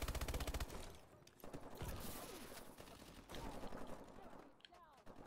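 Assault rifle fire in Call of Duty: Advanced Warfare: rapid bursts of automatic gunfire, fast and regular at the start, then scattered shots and game mechanisms over a busy mix, fairly faint overall.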